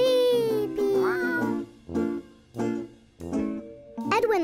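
A cartoon cat gives several drawn-out meows in a row, loud and close, with rising and falling pitch, while a voice sounds briefly at the end.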